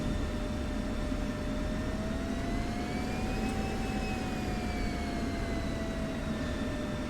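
Steady, loud jet engine roar from an F-16 Viper sitting on the runway in the DCS World flight simulator, a constant whine with a slowly rising and falling pitch, no talk.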